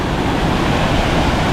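A rushing waterfall on the Ingleton waterfall trail, running with a good head of water through U-bends and chutes, gives a loud, steady, unbroken roar of falling water with no voices.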